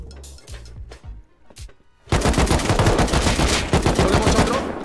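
Video game gunfire in a Rust-style raid: a few sparse single shots, then a sudden dense burst of rapid automatic fire that keeps going loudly to the end.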